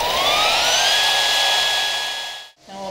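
An AGP HP1400 high-frequency beveling machine spins up to operating speed, its loud tonal whine sweeping upward and then holding steady before cutting off abruptly near the end.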